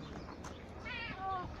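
A short, faint meow rises and falls near the end, heard close over a quiet background.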